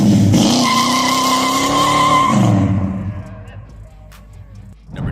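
A 1969 Chevrolet Chevelle SS muscle car engine revving hard with a rising, droning V8 howl and tire squeal, then easing off and fading away over the last couple of seconds, ending in a faint low rumble.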